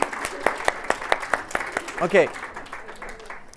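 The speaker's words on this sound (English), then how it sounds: "Round of applause." A small group claps briefly in quick, light bursts at an outdoor nature gathering for kids. The clapping fades out and a voice speaks.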